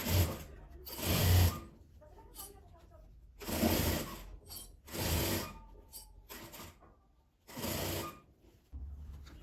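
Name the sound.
sewing machine stitching fabric panel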